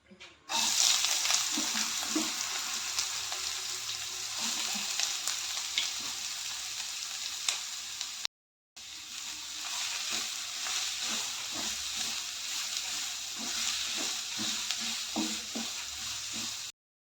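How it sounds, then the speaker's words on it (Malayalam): Onions and fenugreek seeds sauté in coconut oil in a kadai, giving a steady loud sizzle and crackle with occasional stirring scrapes, briefly cut off midway before the frying resumes. "ഞാനിവിടെ ഒരു കടായിൽ കുറച്ച് വെളിച്ചെണ്ണ വെച്ചിട്ടുണ്ട്. ഇനി കുറച്ച് ഉലുവ ചേർക്കാം. ഉള്ളി ഒന്ന് വഴറ്റിയെടുക്കാം."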